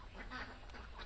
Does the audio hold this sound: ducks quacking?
yes